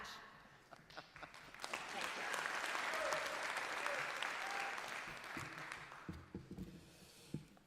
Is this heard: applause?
yes